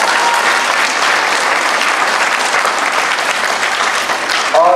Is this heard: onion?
no